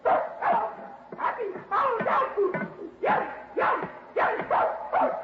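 A dog barks in a steady series of about eight yelping, whimpering barks, close and loud, in an old radio drama.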